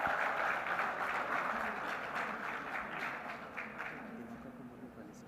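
Sustained audience applause at a maritime industry ceremony, a dense, steady wash of clapping that holds for several seconds and tapers slightly toward the end, with no voice over it.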